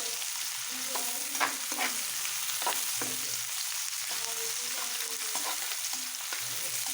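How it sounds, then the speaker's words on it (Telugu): Onions frying and being stirred in a pan for a goat head meat curry, with a steady close sizzle broken by repeated short scrapes of the stirring spoon and no talking. "ఉల్లిపాయలు వేసుకొని కలుపుకుందాం కొంచెం బాగా యాగనిద్దామండి బాగా ఎగితే బాగుంటాయి"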